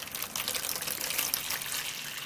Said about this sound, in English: What I will do now is put enough water in it